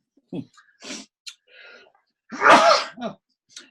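A single loud sneeze bursts out after a few short vocal sounds and breaths, followed by a brief voice.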